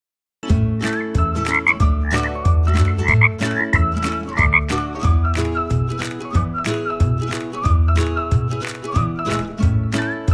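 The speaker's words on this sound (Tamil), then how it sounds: "தவளை கத்தும்." Frogs croak loudly and continuously in a dense, pulsing chorus, with rapid repeated calls layered over one another.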